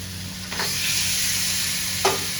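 Washed chicken pieces drop into hot spiced oil in a pan and burst into loud sizzling and hissing, with a couple of sharp stirring clatters over the constant frying noise and no talk.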